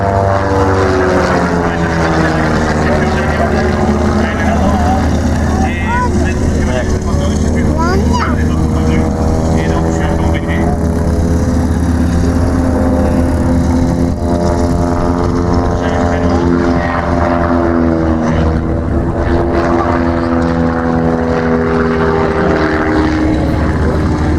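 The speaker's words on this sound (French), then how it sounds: "un avion américain, le Pitts. Le Pitts, c'est un biplan conçu par Curtis Pitts" A Pitts biplane, a single-engine American aerobatic aircraft, drones loudly and continuously at an air show in Margny-lès-Compiègne, its propeller roar rising and falling in pitch as it passes, with a commentator talking over it.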